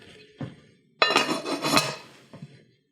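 A lid is set onto a pot of cauliflower pieces in salted water, giving a brief metallic clatter and rattle, then a short clink as it settles.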